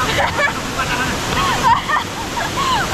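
A constant, loud rush of falling water from the Pucuk waterfall, an outdoor tourist spot, runs throughout, with a voice speaking over it.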